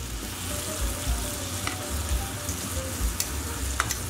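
Chicken skewers sizzle steadily in a hot pan as they are tossed, a continuous close frying hiss with a few light scrapes and clicks, no voices.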